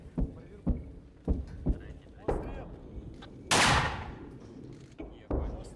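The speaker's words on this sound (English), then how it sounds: "They get coordinates for an enemy position and rush to fire a 60mm mortar." Sharp booming reports from a 60mm mortar and gunfire in a war zone near Bakhmut, repeated irregularly at close to medium range, with one longer rushing blast and voices talking between them.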